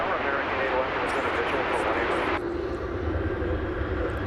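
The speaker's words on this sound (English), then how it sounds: "American Flight 2081 arriving from Sacramento." An American Airlines jet arriving at DFW Airport gives a broad, loud roaring engine rush that holds steady, then drops to a lower rumble partway through, heard from a spotting position.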